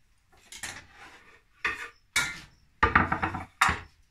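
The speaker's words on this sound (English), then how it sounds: "So now I'm just going to pop those into the pan while it's simmering." Ingredients are dropped one after another into a pan of simmering liquid, giving a series of close clatters and clinks against the pan with short quiet gaps between them.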